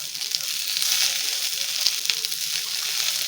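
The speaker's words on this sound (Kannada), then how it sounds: "ಸ್ವಲ್ಪ ಫ್ರೈ ಮಾಡ್ಕೊಳ್ಳೋಣ" Crushed garlic and fresh ginger frying in a hot pan, a steady close sizzle throughout with a few soft clicks of a utensil, no voices.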